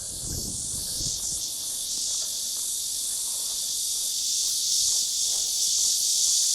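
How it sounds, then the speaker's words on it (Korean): A steady, loud high-pitched buzzing drone of cicadas fills the air continuously on a summer morning in a village in Jeju, with faint low thumps near the start. "매미가 아침부터 계속 울고 있네요"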